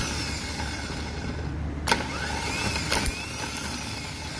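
An M100 tractor starter motor cranks during a test, giving a steady whirring drone with a few brief sharp clicks partway through.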